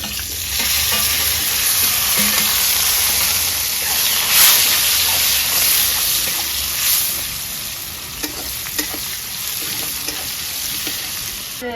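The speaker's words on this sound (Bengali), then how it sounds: "পেঁয়াজটা ভালো মতন ভাজা হয়ে যাক" Sliced onions frying with dried chillies and bay leaves in a pan for Bengali chicken pulao, a steady loud sizzle with occasional stirring scrapes and spatters, no voices.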